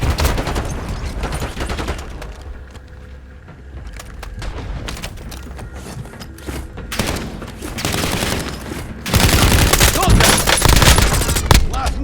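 Gunfire in the battle royale video game Warzone with an M4 and HDR, dense rapid bursts and loud volleys, near and far, heaviest toward the end, with game voice lines over it.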